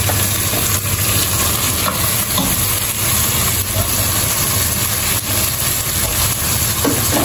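Shrimp for sinigang sautéing in a pan, a steady dense sizzle and hiss with faint stirring scrapes, close and continuous with no talk.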